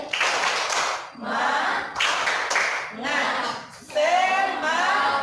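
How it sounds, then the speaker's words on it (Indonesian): A primary-school class performs a patterned spirit clap: bursts of group clapping in rhythmic sets, each set broken by short pauses, with children's voices chanting along over the hands. "Tepuk semangat."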